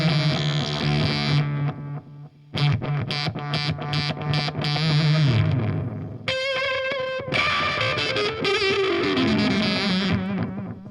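Electric guitar played through a Fuzzrocious Croak fuzz pedal, loud and saturated, with sustained distorted chords, a brief gap, choppy stabs, then rapid repeated high notes and ringing chords, with no talking.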